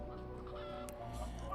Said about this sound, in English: these chickens sounded extremely distraught